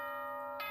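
A doorbell-style chime in the Danganronpa 1 video game, a sustained pure ringing tone that holds steadily for most of a second, faint and heard alone.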